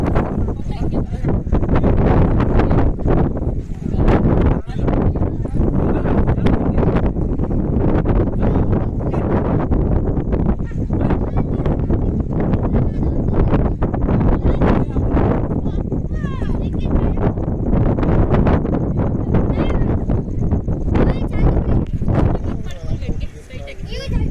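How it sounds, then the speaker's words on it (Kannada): Strong wind blowing outdoors near a riverside temple site, buffeting the microphone as a loud, constant roar with gusty rumble, heard under ongoing talk. "ಜೋರು ಗಾಳಿ ಬೀಸ್ತಾ ಇತ್ತು"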